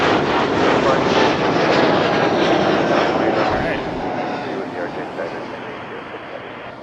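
An airliner takes off at Toronto airport, its engines giving a loud, broad roar that holds and then slowly fades as the aircraft moves away.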